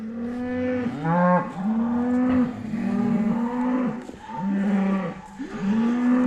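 Newly arrived cattle in a paddock moo repeatedly, with loud, close, drawn-out low calls overlapping one another in a steady run of lowing with no talk.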